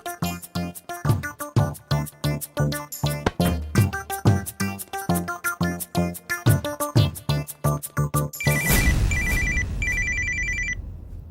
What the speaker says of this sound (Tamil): அந்த ரத்தன் பயலுக்கு ஃபோன் பண்ணி கேட்போம்.